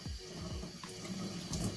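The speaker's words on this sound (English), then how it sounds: "I wash it off with cold water, not warm water." Cold tap water rinses seafood in a sink, a steady close splashing stream with a few gurgles, no voices over it.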